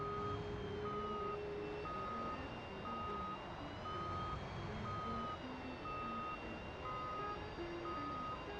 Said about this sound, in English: let's close it so that beeping thing doesn't keep going